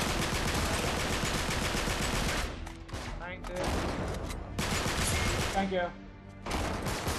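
Dense, sustained gunfire from a co-op firefight in the game Uncharted 3 fills the clip, with brief lulls, while players talk over the shooting.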